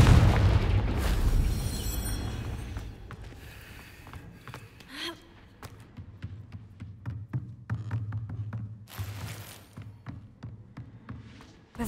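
A Confringo spell explosion in Hogwarts Legacy booms loudly at the start and fades into a rumbling decay, followed by scattered crackles, pops and a few softer bursts.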